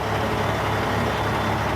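A reefer truck's engine rumbles loud and steady at a wash bay, a close, continuous low drone with a faint mechanical whine and no voices.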